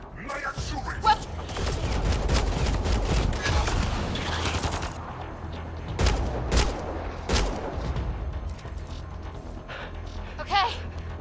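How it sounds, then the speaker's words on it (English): Gunfire from the video game Mass Effect Andromeda, dense rapid bursts and single loud shots crackling through a firefight, with characters shouting over the shooting. "Nyan, shoot it!"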